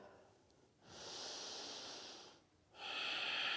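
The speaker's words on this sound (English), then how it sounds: "Take a full breath here." A person doing yoga takes a full deep breath, heard as two long, airy breaths separated by a brief pause. The breathing is close and quiet, and no words are spoken.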